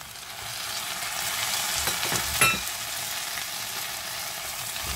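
Chopped tomatoes sizzle lightly in a pan for vegetarian fried rice, giving a steady, close hiss with a brief stirring scrape partway through.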